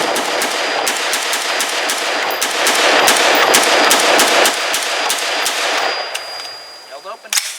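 Rapid gunshots ring out from a Brownells BRN-601 retro USAF AR-15 Colt clone rifle, a loud string of sharp cracks in quick succession, followed by metallic clinks as firing stops.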